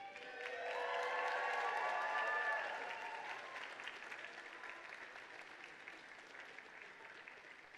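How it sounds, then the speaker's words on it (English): A commencement ceremony audience at Northern Vermont University, Lyndon, bursts into loud applause with a few cheers and whoops, peaking in the first few seconds and then settling into steadier, softer clapping. "Graduates, please give your supporters all a round of applause"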